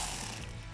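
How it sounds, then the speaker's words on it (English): Electric ratchet with an 8mm socket backing out a bolt on a Bronco during a cold air intake install; a steady, close mechanical ratcheting whir runs continuously through the brief moment. "So I'm going to take my 8mm on my electric ratchet, remove this one."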